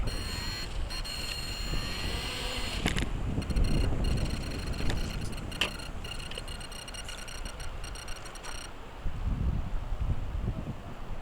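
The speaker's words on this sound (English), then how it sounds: "That's a bit windy. I'll just wait for that to stop." Steady wind blowing hard across a microphone, producing a continuous low rumble with occasional stronger gusts and faint clicks throughout.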